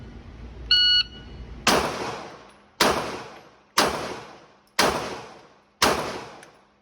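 Five loud, evenly spaced gunshots ring out at an indoor shooting range during target practice at 10 yards, each sharp crack decaying into echo, preceded by a short electronic beep signal.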